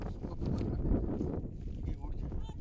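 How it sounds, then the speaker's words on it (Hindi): Strong wind gusting outdoors beside a rain-filled pond, roaring steadily in the microphone with a continuous low rumble for the whole stretch, loud and close. "जैसे बहुत ज्यादा हवा चल रही है।"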